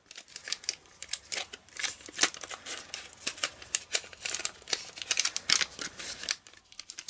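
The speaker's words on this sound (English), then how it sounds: "then trim the painter's tape off" Scissors trim painter's tape in a run of quick, crisp snipping cuts mixed with light tape crinkles, close and moderately quiet with no talk.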